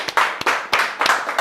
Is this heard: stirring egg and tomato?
no